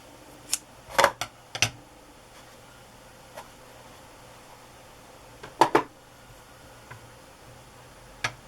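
Scissors snip through a small piece of lace in a few short, crisp clicks. The cuts come in two clusters with quiet pauses between them, heard close up and fairly faint.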